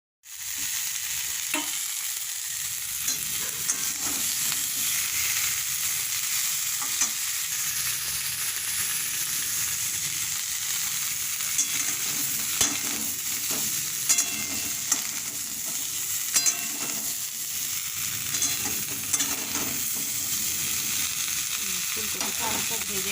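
Cauliflower and potato fry in hot oil, a dense steady sizzle with scattered clinks and scrapes of stirring throughout, close up and with no voices.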